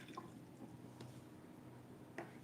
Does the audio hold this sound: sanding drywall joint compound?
no